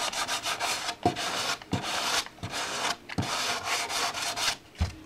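Bondo body filler on a curved motorcycle part is hand sanded in repeated rasping strokes, each stroke separated by brief pauses, close and moderately loud with no talking.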